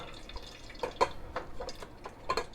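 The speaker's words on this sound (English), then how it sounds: "Once you're draining, squeeze out as much of the liquid as you can." Liquid squeezed by hand out of drained cooked spinach in a colander, falling as a few scattered drips and small splashes, close and fairly quiet.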